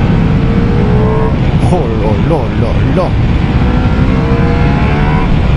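A Ducati Multistrada V4S motorcycle engine revs and shifts through gears with a quickshifter, rising and falling pitch sweeps under wind rush, while a rider exclaims over it.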